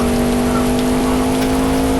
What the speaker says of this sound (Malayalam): നല്ല മഴ പിന്നും വന്നു.